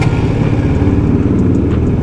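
KTM RC 200 motorcycle engine idles after a self-start, a loud, close, steady low-pitched burble with a slight fluctuation in revs.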